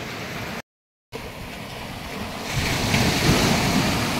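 Sea waves roll onto Aare Ware beach in Ratnagiri on the Konkan coast as a continuous, windy surf roar. The sound cuts out briefly near the start, then swells louder as a wave breaks.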